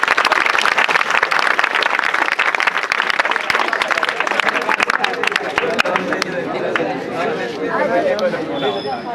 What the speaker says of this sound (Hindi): सबसे पहले मैं चाहूँगा अपने लिए जोरदार तालियों को बजाइए।